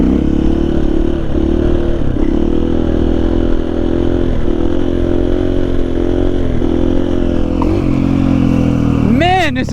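A KTM-upgraded XR80 dirt bike engine drones loudly and steadily while riding, with a few short rev changes and a sharp rise near the end. A rider's voice comes through over the engine.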